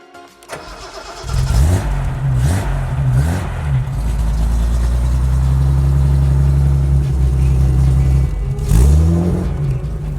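A 1974 Datsun 240Z engine cranks and catches, then settles into a loud, close, steady running note with a couple of brief revs near the start and another blip near the end, with no talking.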